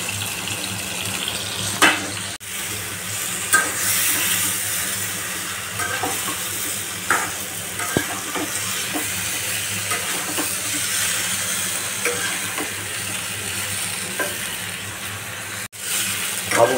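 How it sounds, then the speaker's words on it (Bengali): Cut raw mango pieces fry in oil with spices, a constant close sizzle broken by occasional stirring scrapes and knocks of a spoon against the pan. "আমগুলো এভাবে সুন্দর করে ভেজে কষিয়ে নিতে হবে"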